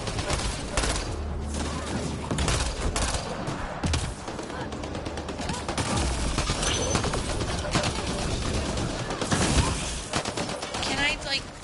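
Rapid gunfire in Mass Effect Andromeda, aimed at a volatile canister, keeps up a dense wash of shots and impacts over a steady loud game background for the whole stretch.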